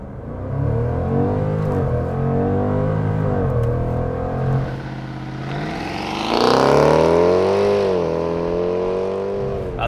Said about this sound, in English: 2022 Jaguar F-Pace SVR with launch control.